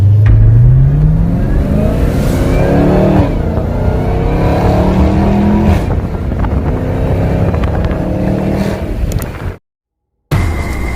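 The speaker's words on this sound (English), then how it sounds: "This is what you get driving the Hellcat in icy roads." A Dodge Charger Hellcat revs hard on an icy road, its engine loud and close with rising and falling pitch sweeps and wind buffeting, then cuts out abruptly for a moment before the roar returns.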